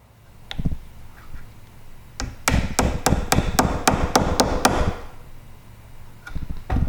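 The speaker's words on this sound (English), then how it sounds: "if I try hammering a nail into it" A few isolated knocks, then a rapid run of about ten sharp hammer blows driving a nail into pallet wood, close by, then another strike at the end.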